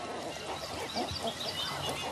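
A colony of flamingos calls together in a dense, continuous honking chorus, goose-like and overlapping, loud and near with no gaps.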